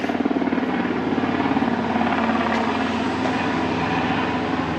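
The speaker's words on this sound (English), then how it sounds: "Helicopter up there." A helicopter flies overhead above a poolside in Santa Ponsa, Mallorca, its rotor throbbing in a steady, rapid pulse, a continuous loud drone with no talking.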